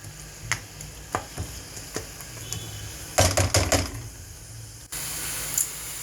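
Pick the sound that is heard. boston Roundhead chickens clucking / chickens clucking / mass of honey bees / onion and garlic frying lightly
onion and garlic frying lightly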